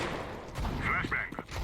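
Blind gunfire in the video game CS:GO, a few sharp bursts of shots sounding through the match audio under a commentator's voice.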